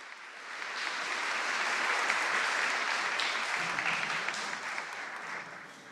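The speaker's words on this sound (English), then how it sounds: "Big round of applause." Audience applause at a tech forum session, a steady wash of clapping that swells and holds for several seconds before easing slightly.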